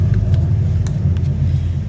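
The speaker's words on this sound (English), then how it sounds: "I am near traffic, so you're going to hear a lot of traffic noise." Road traffic passing nearby, a steady low rumble of car engines and tires with occasional brief higher swishes, continuous and fairly loud throughout.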